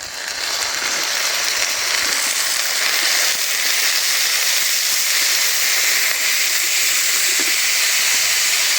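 Dried fish dropped into hot oil with fried onions hisses in a loud, continuous bright sizzle that barely varies, close up, with faint scraping ticks and no talking.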